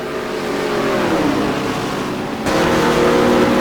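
A BMW Z4 race car in the racing sim GTR2 roars loudly as it accelerates, its engine note sliding down and then climbing again after a sharp gear change, heard up close from onboard.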